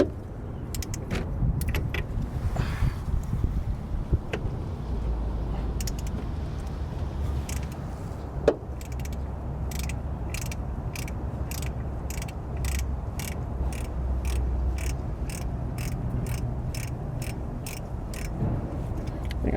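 A socket wrench breaks loose the oil pressure switch on a Honda Accord: a single sharp crack rises out of steady background hum, followed by a long run of evenly spaced ratchet clicks close by.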